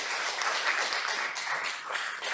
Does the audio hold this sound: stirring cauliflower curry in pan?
no